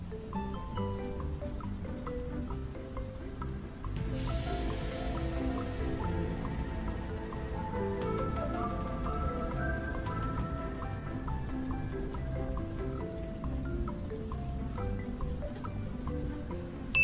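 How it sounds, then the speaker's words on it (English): Rain falls steadily in a yard beside a porch, with patters and drips against a continuous wash of sound, heard under music. "Under the thickening rain, Lily quickly grabbed each shirt and pair of pants from the drying rack"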